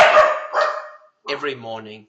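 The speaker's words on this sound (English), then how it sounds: "Sorry about the dog." A dog barks nearby during an interview about judo history in South Africa; someone talks first, then a short, tonal bark or yelp follows.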